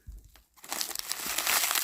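A package wrapped in tape, a paper sack and a plastic bag being opened: a short rustle, a pause, then loud, continuous crinkling and crumpling of paper and plastic close by.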